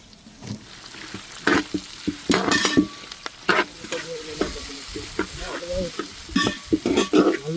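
Big, roughly cut onions crackle in hot spiced oil while being stirred, with repeated loud scraping and clattering strokes over a steady sizzle.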